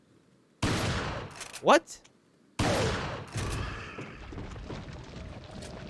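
Gunfire in the Resident Evil 4 video game: two loud, sharp gunshot blasts with a ringing tail, followed by a brief spoken word and continued game sound.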